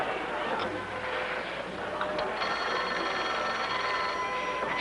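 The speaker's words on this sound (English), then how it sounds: "I'll answer the phone" Telephone ringing indoors in a 1950s sitcom, its bell trills heard at a moderate distance beneath background voices and room noise.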